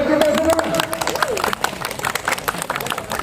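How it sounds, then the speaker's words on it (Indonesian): A crowd at a teachers' workshop in Indramayu claps in a dense, steady patter, with a voice speaking over the start of the applause. "Tepuk tangan buat kita semua."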